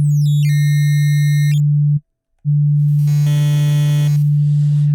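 A steady low tone turns buzzy and gritty as harsh digital distortion adds stepped overtones, with a brief silent gap midway.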